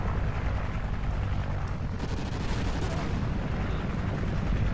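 Dense, continuous rumble of distant gunfire and explosions in Call of Duty: Ghosts, a steady loud barrage with no pauses.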